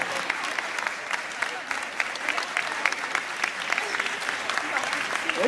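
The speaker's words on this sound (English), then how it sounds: "you can give a round of applause" Applause from the audience for alumni at a Lawrence High alumni scholarship event: sustained, even clapping from a room full of people, with some speech mixed into the crowd noise.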